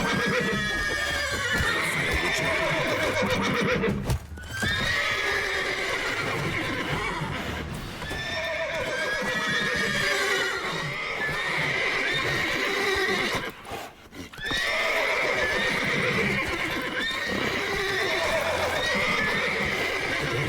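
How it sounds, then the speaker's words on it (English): Horses in the open-world action game Witcher 3: Wild Hunt whinny and neigh repeatedly with clip-clopping hooves, loud and close, in several bursts separated by brief pauses. "Chill horses"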